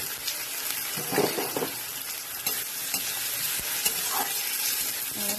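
Onion and tomato fry in a pan with a dense, steady sizzle. Intermittent stirring scrapes and utensil taps sound close by.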